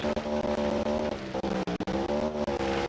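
A Cosmo Street car in a racing video game drives hard, its engine droning and revving with shifting pitch, interrupted by several short gaps and sharp clicks, loud and close.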